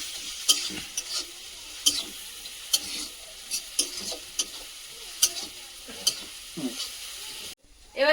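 Ginger, cumin and meat frying in a pan in a home kitchen, an even sizzle punctuated by regular spatula taps and scrapes about every half second, ending in a brief cut.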